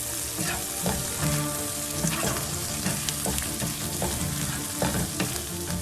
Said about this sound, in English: Next, I will add in the sliced onions and let us fry it till the rawness of the onions have gone.